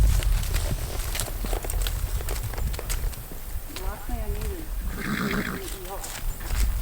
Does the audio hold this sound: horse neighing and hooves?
yes